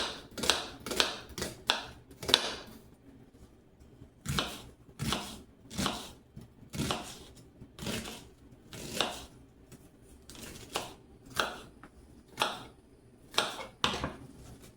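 Onion being chopped with a knife on a board, a series of crisp, irregular cutting strokes in quick clusters with short pauses between them, close and fairly quiet.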